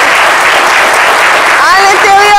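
An audience at the Ebony 2021 event breaks into loud, sustained applause, a thick steady clatter of clapping with a few whooping voices rising near the end.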